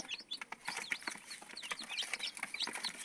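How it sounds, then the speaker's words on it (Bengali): Nine newly hatched desi chicken chicks peep in quick, high, overlapping chirps, close and fairly soft, with a continuous busy twittering and no talking. "টোটালি আমরা এখানে পাইছি নয় পিচ মুরগির বাচ্চা"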